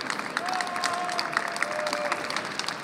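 Steady, fairly close applause from an audience at the Moscow Dive Show 2024 award ceremony, continuous clapping with a faint tone running under it.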